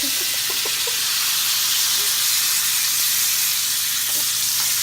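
Pork tenderloin searing in a hot pan makes a loud, dense, continuous sizzle and hiss that stays even throughout, close up with no talking.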